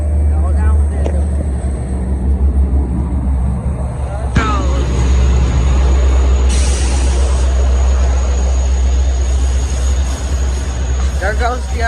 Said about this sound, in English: Here's the Oyster Bay train.